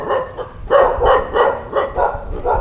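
A dog at a rural home in Vietnam's Mekong Delta barks loudly and close by, about six sharp barks in a steady, repeating rhythm.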